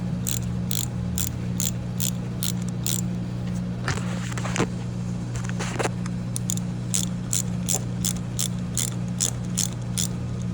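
A ratchet clicks in steady repeated bursts while loosening a spark plug on a 2014 Toyota Corolla, close and loud over a constant low engine-bay hum, with a brief scraping moment partway through.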